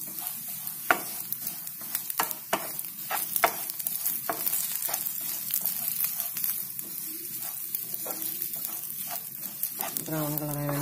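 Coriander powder and masala powder fry in hot oil in a pan for a potato curry, giving a close, continuous sizzle broken by quick scraping stirs. Near the end a brief, brighter tone rises above the frying.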